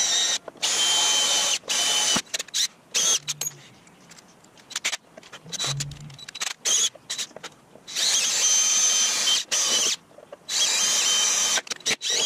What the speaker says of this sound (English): So I need to drill out those three rivets to take this piece out